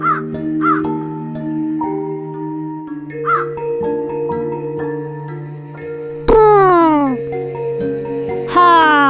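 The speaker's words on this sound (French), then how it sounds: "Toi aussi, gentil corbeau, vas-y." A crow caws loudly several times in short harsh calls over sustained musical tones, with a few brighter swooping notes near the end.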